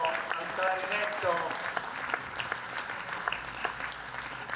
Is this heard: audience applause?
yes